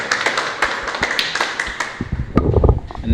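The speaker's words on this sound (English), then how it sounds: "Give him a round of applause." Scattered clapping from a small group, uneven and fairly close, tapering into a few louder thumps and knocks near the end.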